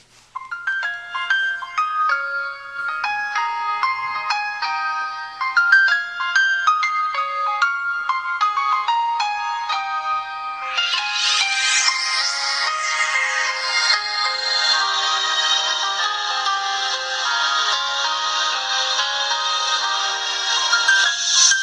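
Music track playing through the small built-in speaker of a Motorola DROID X, tinny and thin with no bass, with bright melodic tones that swell into a denser, fuller section midway, with no talk.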